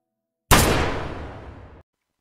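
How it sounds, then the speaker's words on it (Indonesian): A single sharp gunshot bursts out, followed by a long decaying echo that fades over about a second, with silence before and after. "Tak lama kemudian terdengar suara tembakan dari dalam."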